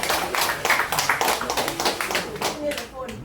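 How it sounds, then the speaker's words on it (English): Brief, dense clapping from an audience at a product presentation of a blower device. It runs steadily for a few seconds under a busy room, with voices mixed in. "Give them a big round of applause"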